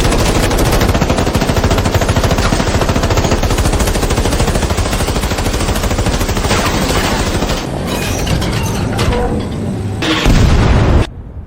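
Relentless, loud automatic gunfire with booming blasts in a Korean war film pitting modern troops against Tang dynasty forces during the Three Kingdoms era, a dense unbroken barrage that briefly eases before swelling again near the end.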